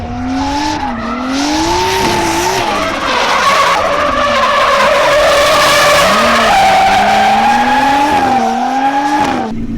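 Nissan Skyline R32 drifting on a track, tires squealing loudly and continuously with wavering pitch over a revving engine, close and sustained throughout.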